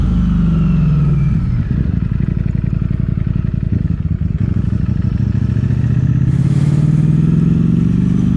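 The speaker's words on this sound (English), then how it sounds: "I'm just testing out the throttle, and I can safely say it definitely makes a difference." A Ducati Streetfighter V4 motorcycle engine revs loudly up close, rising and falling with short throttle blips over a rapid mechanical clatter, continuous throughout with no talking.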